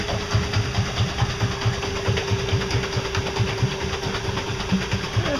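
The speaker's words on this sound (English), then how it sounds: "Just letting the motor do its thing." An electric bicycle motor, fed directly from solar panels, drives the bike while the rider does not pedal: a steady close hum with fast rhythmic pulsing and light rattles, no voices.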